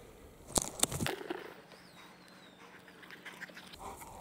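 Dog making soft, brief whimpering noises near the start, followed by faint rustling and a quiet room with low background hum; a thin high whine drifts faintly through the middle.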